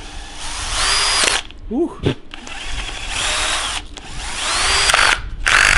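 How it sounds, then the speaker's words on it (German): A power drill whines steadily at close range, drilling a hole in an engine valve cover, pausing briefly a few times before spinning up again, with a short burst of speech in the middle. "Deswegen bohren wir einfach in den 710er Deckel ein Loch."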